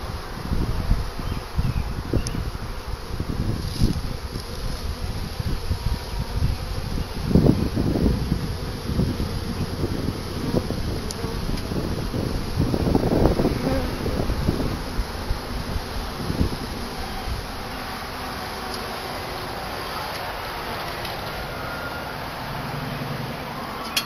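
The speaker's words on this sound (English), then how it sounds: "See how they're all fanning, trying to tell everybody else this is where we're at?" Honeybees fanning at a swarm trap make a steady, dense buzz that carries on throughout, mixed with gusts of wind rumbling against the microphone.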